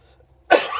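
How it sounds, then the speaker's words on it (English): A single sharp cough breaks out after a moment of near silence, close and loud. "I've got a bit of a cough here"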